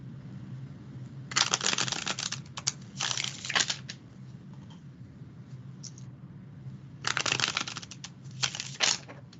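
Tarot cards being shuffled by hand, crisp riffling bursts in several separate runs with quiet pauses between, close and fairly soft, with no talking.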